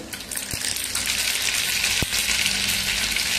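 Half a spoonful of mustard seeds hiss loudly in hot oil, a continuous, close sizzle broken by two brief, sharp pops.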